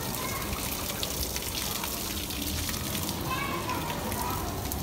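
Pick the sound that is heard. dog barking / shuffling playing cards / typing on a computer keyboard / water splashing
water splashing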